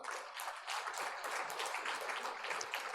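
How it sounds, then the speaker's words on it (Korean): A church congregation claps at a Sunday Easter service, a short burst of dense applause that holds steady throughout, heard from a slight distance. "우리 하나님께 감사 박수 한번 하십시다."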